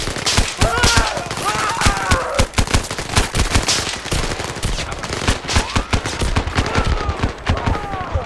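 Gunfire in the VR shooter Zero Caliber during a co-op mission, with rapid bursts of automatic shots and single cracks packed densely over the whole stretch, loud and close under a player's voice.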